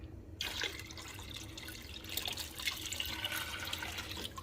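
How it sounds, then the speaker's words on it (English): Water pours into a home canning pot holding submerged jars, a continuous splashing rush from a tap that starts abruptly and keeps running steadily. "So I'm going to add more water to this."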